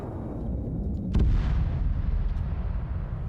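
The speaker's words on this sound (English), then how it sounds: "Artillery strikes." Artillery strikes in the military game Arma 3, a heavy explosive boom at mid-clip rolling over a constant low rumble of distant battlefield noise, with a fainter blast trailing later.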